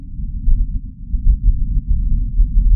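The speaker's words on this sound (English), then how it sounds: "Oh, what's that? A sandstorm!" Low, muffled rumbling wind of a Martian sandstorm recorded by a rover, surging and fading in gusts, steady throughout with no voices.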